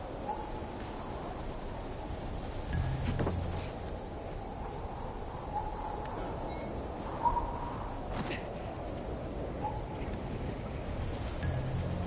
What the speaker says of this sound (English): you can really hear the wind blowing around your head on these headphones